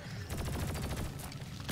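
Rapid automatic gunfire from a weapon in Deep Rock Galactic, shots dumped into the ground during a solo elite deep dive: a fast, evenly spaced burst of close, loud shots lasting about a second, then a brief tail.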